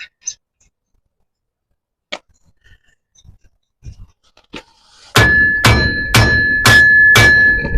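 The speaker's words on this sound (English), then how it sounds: "So I can give her a little harder whack that way." A hammer strikes a bolt, with its nut partly threaded on, on RV suspension. Six loud, ringing metallic clangs follow in quick steady rhythm after some faint tapping and shuffling.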